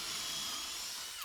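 A power drill whines steadily as it bores pocket holes into lumber for a BBQ side table base, a loud, close, continuous drilling that winds down at the end, with no voices.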